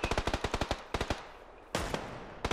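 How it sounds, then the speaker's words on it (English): Automatic weapon fire in the shooter game PUBG: Battlegrounds, with several rapid bursts of close, sharp shots, brief pauses between them, and a heavier volley near the end. "We shot each other."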